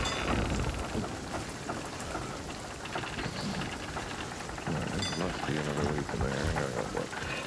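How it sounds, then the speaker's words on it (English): Rain falls steadily on a small boat with a broadband hiss and patter throughout, while people talk over it and a low rumble rolls underneath. "it is raining, so that helps keep the water going"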